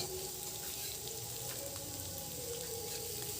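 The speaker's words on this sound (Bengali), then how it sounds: "পেঁয়াজটা দিয়ে ভালো করে ভেজে নেব" Three medium chopped onions sizzling in hot oil with cardamom for a home-style masala chicken, a steady, even crackle and hiss throughout, with no voices.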